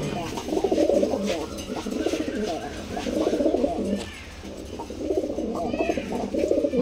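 Two male pigeons on a Bangladeshi pigeon farm coo close by in repeated low rolling phrases, with voices talking over and between the calls.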